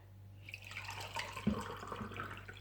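Warm water from a kettle is poured into a cup in a home kitchen, a soft trickling splash with one brief clink, close and fairly quiet.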